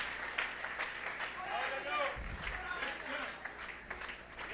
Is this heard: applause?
yes